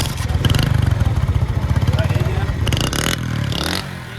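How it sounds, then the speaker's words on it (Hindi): A Super Star motorcycle engine, fitted with a repeater exhaust, idles and revs with a steady rapid throb, close by, then eases off; some clatter and background voices at a bike market in Karachi. "चलिए भाई थोड़ा साउंड सुन लेते हैं भाई सुपर स्टार बाइक है।"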